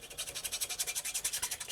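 A needle file rasps against metal while deburring the inside of a throttle part during a hard tail bobber motorcycle restoration. Quick, even back-and-forth strokes repeat steadily at close range with no talking.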